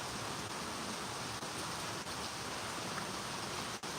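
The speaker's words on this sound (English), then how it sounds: "it's raining" Steady rain falls outdoors, an even, fairly quiet hiss that runs unbroken throughout, with no talking.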